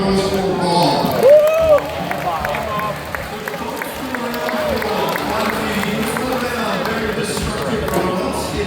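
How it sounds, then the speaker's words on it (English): A large audience claps and cheers at a ROBOWARS robot combat battle at the World Science Festival in Brisbane. Dense, steady crowd noise fills the whole stretch, with a presenter talking over it. "big round of applause for Bob."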